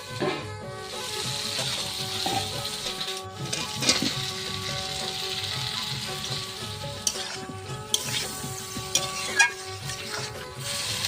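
Chicken pieces sizzle and fry in hot oil with turmeric, salt and spice water for a coconut-milk curry, a steady loud crackle with occasional stirring clinks and scrapes close by.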